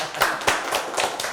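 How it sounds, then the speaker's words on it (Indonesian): A small group claps in an uneven rhythm during a casual band talk show, several close, sharp hand claps in quick succession over a short stretch. "Tepuk tangan lagi lu."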